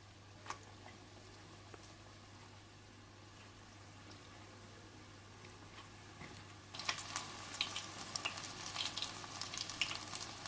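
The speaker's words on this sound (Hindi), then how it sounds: "इसी तरह से आप सारे पकोड़े तल लें।" Malai pakoras deep-frying in hot oil, a steady soft sizzle that swells into louder, denser crackling and bubbling partway through, with no voices.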